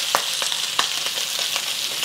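Onions hitting a hot pan with pork, giving a loud, close sizzle and frying hiss, broken by several quick scraping stirs in a loose rhythm over about two seconds.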